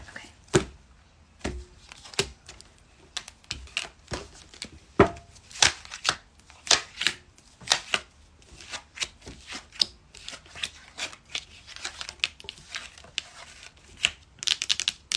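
A deck of tarot reading cards is cut and shuffled up close, a run of crisp riffling flutters and snappy card slaps in uneven bursts, with no voices over it.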